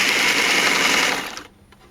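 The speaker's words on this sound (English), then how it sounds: "And you sew those together." A sewing machine stitches tunic arm pieces together, a steady close whirring run that stops abruptly near the end, leaving quiet.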